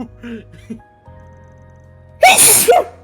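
A sharp, loud sneeze bursts out in a Trails into Daybreak game scene after a few brief voiced sounds and a steady low hum, ending with a short breathy tail.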